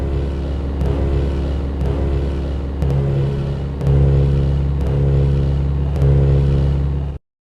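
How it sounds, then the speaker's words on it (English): A land vehicle engine in Minecraft's Flans Mod drones with a loud, steady low hum. Looping bursts about a second apart shift its pitch, with no talking over it. "Remember these beautiful, classic engine noises."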